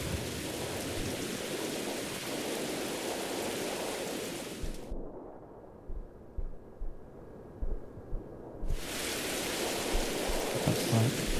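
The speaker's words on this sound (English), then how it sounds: "Why is it only raining over here, huh?" Steady rain falls in the horror role-playing game Mothered, a dense hiss that thins out partway through, with scattered louder drops and splashes, then swells back to full strength.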